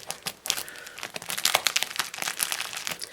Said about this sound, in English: Just very carefully unwrap.